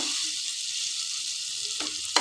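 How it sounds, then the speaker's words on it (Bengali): Thick-cut potatoes coated in salt and turmeric fry in oil previously used for fish, with a constant, close hissing sizzle, and a couple of quick utensil clinks come near the end. "মাছ ভাজার ওই তেলে ভেজে নিচ্ছি"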